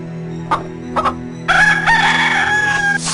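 A rooster crows in Discworld II, a single long cock-a-doodle-doo that rings out loud and close after a couple of brief clucking bursts, over a steady background hum.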